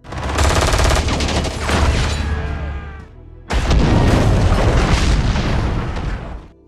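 Two gas cylinders blow up in an action film, one behind a house and one on a boat, as loud booming blasts with roaring debris, a brief lull, then a second sharp explosion.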